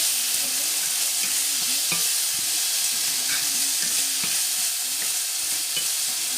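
Chopped tomato sizzles steadily in a pan, seasoned with salt and nutmeg, for a Portuguese cod (bacalhau) macaroni dish, with a constant close hiss and soft scraping stirs at intervals.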